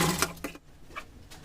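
A sewing machine stitching fabric for a small summer night suit runs in short bursts, quiet and close, with brief pauses between the stitching runs.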